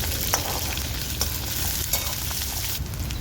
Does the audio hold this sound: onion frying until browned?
yes